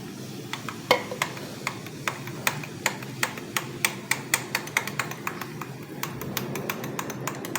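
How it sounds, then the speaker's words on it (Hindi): A spoon stirring guava sharbat in a glass as it is poured in: a steady run of light, rhythmic clinks against the glass, close and clear over a soft background hiss. "अब हम इसे डालते जाएंगे और स्टर करते जाएंगे"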